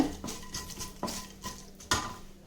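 Whole cinnamon, cardamom and pepper are sautéed in a pan, with several quiet scraping stirs at an uneven pace and a faint sizzle underneath, with no talking.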